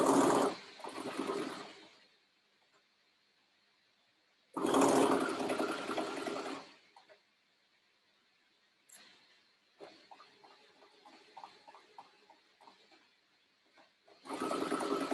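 A sewing machine stitches a shirt popover placket in loud, whirring bursts of a couple of seconds each, separated by quiet pauses and softer handling sounds, with no talking.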